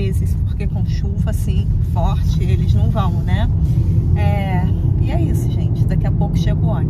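A bus idles and pulls up nearby with a loud, steady low engine rumble, while people talk and a voice rises briefly over the motor.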